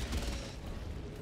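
Walking barrage artillery strike in Helldivers 2 booming as a brief, dense burst of heavy rumbling impacts, loud and close, fading slightly toward the end.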